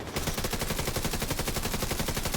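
A deployed turret in The Division 2 fires at an enemy in a rapid, unbroken burst of machine-gun shots. The shots are loud and evenly spaced, with no pauses and no voices.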